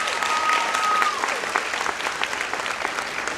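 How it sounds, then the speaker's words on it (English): Graduates at a college commencement ceremony burst into applause, a dense crowd clapping that is loud at first and then thins out, with a voice speaking briefly over it. "By a round of applause, how great is that?"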